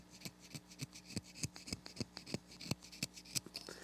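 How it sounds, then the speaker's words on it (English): A knife scrapes the cane of an oboe reed in a run of short, quick strokes, close and quiet, with no talking. "if you get any chatter, you want to scrape through it."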